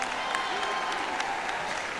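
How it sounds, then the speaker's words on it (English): Audience applause fills a university commencement ceremony at Florida A&M, a steady even wash of clapping from a large crowd held at a constant level throughout. "I think that's worthy of a round of applause."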